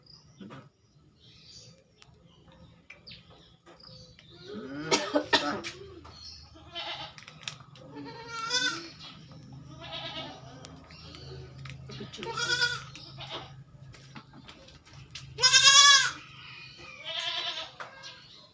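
A goat over a month old with diarrhea bleats several times in loud, wavering cries, with a quieter animal and faint chirping insects in the background.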